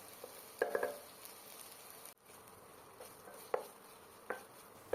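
Spice paste for kochu shak fries gently in a pan, a faint, steady sizzle with a few soft scraping stirs and light taps scattered across it.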